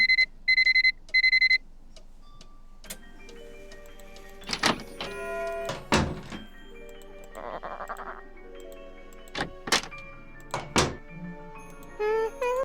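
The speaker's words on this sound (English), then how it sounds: "So I'm gonna set the alarm again." An alarm clock in the Nancy Drew game Curse of Blackmoor Manor rings in three short electronic bursts, followed by scattered thunks, clicks and mechanical clatter from in-game interactions.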